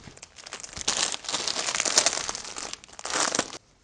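Plastic packets holding fabric samples are handled close up, giving a few seconds of continuous crisp crinkling and rustling that stops abruptly.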